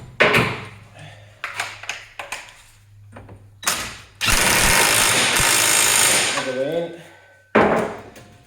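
An impact tool on a Subaru STi axle nut clatters in short bursts, then hammers in one long, loud rattling run of about three seconds, followed by another short burst, with handling noises between.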